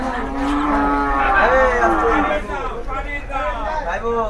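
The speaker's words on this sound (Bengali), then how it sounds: "লাল এবং অপরটি কিন্তু কালো গরু।" Cattle at the Gabtoli cattle market moo loudly and repeatedly, long drawn-out calls close by, with people talking in the background.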